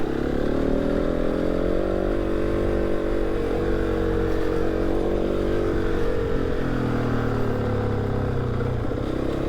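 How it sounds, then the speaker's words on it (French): A new motorcycle's engine runs steadily throughout, a continuous mid-pitched drone with slight shifts in revs, close and loud with no talking. "Et en plus c'est une nouvelle moto, donc faire attention."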